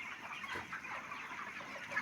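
A packed broiler shed full of chickens gives off continuous clucking from many birds at once, a busy mid-distance murmur with a few sharper calls standing out near the end.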